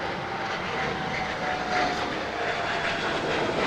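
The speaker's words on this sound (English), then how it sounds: "we have an exec jet right now taking off from runway 25 left" A Bombardier business jet, a Flexjet flight bound for Napa, takes off from runway 25 left at Los Angeles International Airport. Its engines give a steady, moderately distant roar that holds constant and is heard alone, with no talk over it.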